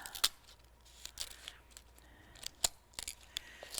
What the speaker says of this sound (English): I'm going to take the scissors and I'm just going to cut right down here along the front.